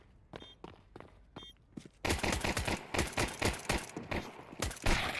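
Rapid gunfire from Counter-Strike 2 rings out in sharp bursts, quieter single shots giving way to a louder, denser volley of cracks and footsteps.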